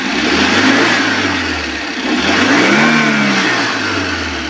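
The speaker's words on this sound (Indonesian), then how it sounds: "Coba sekarang saya naikkan RPM." A 2009 Suzuki APV Arena GL engine revs up twice from idle, rising and falling in smooth swells, heard up close and loud with no talking.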